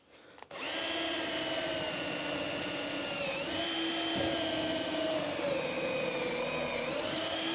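A power drill spins up after a brief click and drills a hole through a multi-angle drill guide, a loud steady whine with slight pitch dips as it bites, running continuously and alone.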